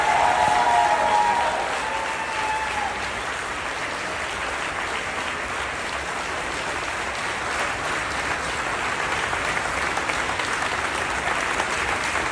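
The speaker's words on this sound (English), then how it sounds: "the diplomats are clapping out their laid-off colleagues" Diplomats clapping out their laid-off colleagues fill the space with a sustained, even wash of applause. A brief voice sounds at the very start, then the clapping runs steady and moderately distant to the end.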